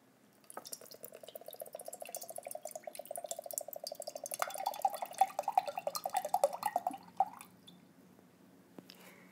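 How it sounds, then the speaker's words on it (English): Coconut water from a freshly opened young coconut pouring into a pitcher, a soft, steady trickling gurgle whose pitch rises as the pitcher fills, quiet and close. "put the coconut water into a pitcher"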